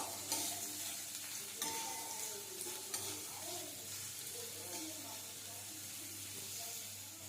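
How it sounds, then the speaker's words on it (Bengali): Chopped onions frying in hot oil in a home kitchen as finger rolls are prepared, a steady broadband sizzle with occasional stirring scrapes, close and continuous with no talking. "তেল গরম হয়ে গেছে দিয়ে দেবো কোচানো পেঁয়াজ একটু ভেজে নেবো"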